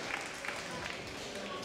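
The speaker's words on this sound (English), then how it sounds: "big round of applause for Nemesis" Crowd applause and cheering at a live wrestling show fill the room, steady and continuous throughout with no single claps standing out.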